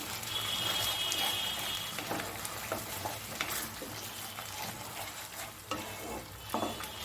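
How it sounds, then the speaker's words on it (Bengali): Spice paste for duck egg korma sizzles in a pan, a steady close frying hiss broken by regular scraping stirs of a spoon, with no talking. "দিয়ে ভালো মতন আমি মশলাটাকে একটু কষিয়ে নেব।"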